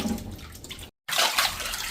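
Water splashes and pours over a new unglazed clay pot being rinsed by hand, a close, steady wash broken by a brief silent gap before a louder burst of running water.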